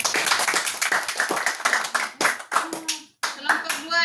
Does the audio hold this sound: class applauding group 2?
yes